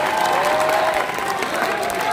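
Dense, steady applause from a large crowd of party supporters at a packed outdoor political rally in Busan, with some cheering and a loudspeaker voice faintly underneath, sustained evenly throughout.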